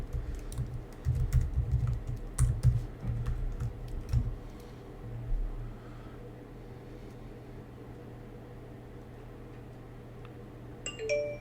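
Typing a password on a Mac keyboard: a burst of quick key clicks in the first few seconds, then tapering off into a quiet room hum, with a faint electronic chime near the end.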